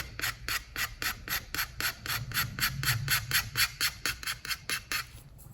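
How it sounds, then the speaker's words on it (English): A steel scraper works a mezzotint copper plate in one direction with lifts between strokes, making a run of about twenty rhythmic, close rasping scrapes that start and stop evenly, with no voices. "I'm scraping in one direction and lifting."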